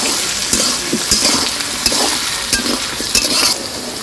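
Chopped onion sizzles steadily in hot oil along with potatoes, while a utensil scrapes and clicks against the pan in an irregular stirring rhythm, close and fairly loud, with no talking.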